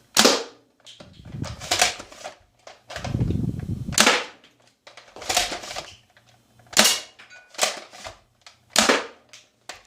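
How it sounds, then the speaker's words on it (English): Jet Blaster Alpha foam dart blaster firing at a cardboard box on a mill, a string of sharp, loud snapping shots with a few heavier thuds, spaced irregularly and heard alone without talk. "we're going to do a cardboard test. I'm just going to shoot at the mill"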